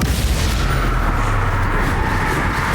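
A Confringo spell explodes in Hogwarts Legacy, producing a loud, sustained booming rumble that holds steady throughout without a distinct single burst.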